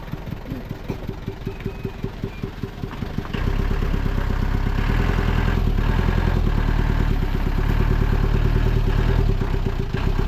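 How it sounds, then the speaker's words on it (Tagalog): A motorcycle reversing on a rural road near a harvester, its engine idling with a rapid clattering putter and then swelling into a louder, steadier drone as it moves back, close and alone without talk. "Atras na yung motor."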